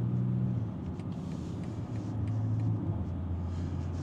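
A BMW X3 M40d diesel car driving at around 120 km/h, heard as a steady low rumble of engine and road noise from inside the cabin, with no voices over it.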